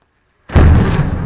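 A thunderclap from a lightning strike during a rainstorm breaks sharply out of near silence, one loud, close boom that rolls on and holds for a second.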